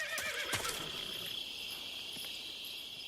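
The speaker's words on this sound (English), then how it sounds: "Go away, horse." A horse neighs in Metal Gear Solid 3 within the first second, short and fairly loud over a steady high insect-like chirring background that runs throughout.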